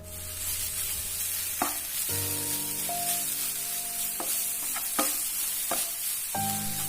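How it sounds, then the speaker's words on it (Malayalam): Black pepper powder is stirred into a tomato masala for a soya chunks kurma: a continuous sizzle from the pan with a few sharp scrapes of a spoon, with steady tonal hum in the background and no voices. "കുരുമുളക് പൊടിയും കൂടെ ഒന്ന് മിക്സ് ചെയ്തെടുക്കണം."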